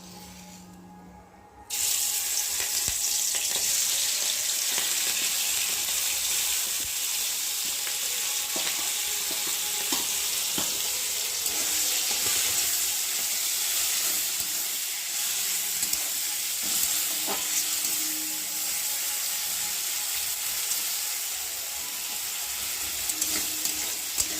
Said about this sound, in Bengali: হলুদ মেখে রাখা চিংড়ি মাছগুলোকে দিয়ে ভালো করে ভেজে নেবো